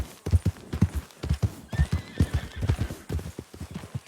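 Horses in Red Dead Redemption 2 clop along with steady, close hoofbeats, and a whinny rises briefly through the middle of the trotting rhythm.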